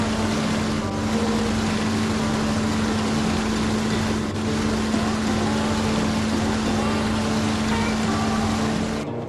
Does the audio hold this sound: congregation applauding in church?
no